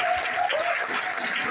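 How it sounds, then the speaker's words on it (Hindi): An indoor audience at a lifestyle business meeting claps for a new product, a brief burst of dense applause mixed with a faint high tone and a low murmur. "तो ये तालियां हमारे नई प्रोडक्ट के लिए बज रही थी।"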